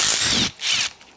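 A ratchet turning a 12 mm socket on an extension, rapid clicking bursts of the pawl in two short runs, close and fairly loud with no talk.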